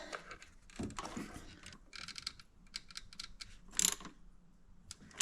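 A ratchet loosening bolts on a Volkswagen Jetta TDI intake makes quick bursts of close, dry clicking, pausing and restarting in short irregular runs, with occasional metallic knocks.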